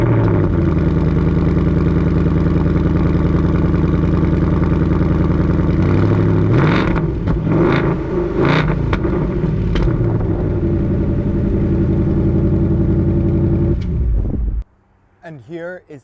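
A 2020 Ford Mustang GT Performance Pack 2 with a 5-liter V8 and active exhaust idles with a deep, loud rumble, then blips through a few sharp revs before shutting off abruptly near the end.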